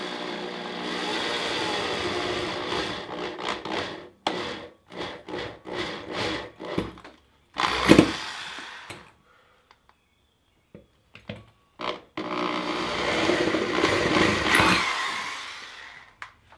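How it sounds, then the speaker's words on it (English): Power drill with a 3/16 bit boring three or four small holes through the top of an empty steel propane cylinder, heard as several loud grinding bursts separated by brief pauses, with a final long steady run of drilling. "I'm just going to use this drill here with a 3/16 drill bit and just make three or four small holes across the top."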